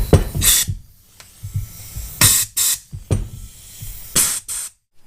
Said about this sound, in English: let's try to spray this way again.